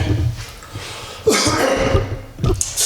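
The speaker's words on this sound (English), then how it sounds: "got to quit coughing on this video." Several harsh coughs from a person with a stuffy nose, close to the microphone in a garage-like setting while working on a 2020 Yamaha R1 motorcycle, coming in short bursts with brief pauses between them.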